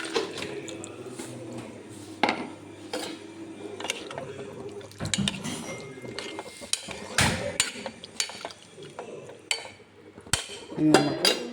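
Coconut milk is stirred into olan in a pot: scattered metallic clinks and scrapes of a spoon against the pot, with sloshing liquid beneath, irregular and close. There is no talk.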